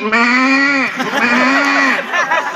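A voice imitates a goat, giving a loud, close, wavering bleat that breaks off and then comes back as a second, shakier bleat.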